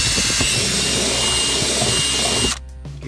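A jigsaw running on solar power cuts a hole for a homemade off-grid air conditioner, a loud continuous buzzing rasp that stops abruptly near the end, leaving a quieter hum.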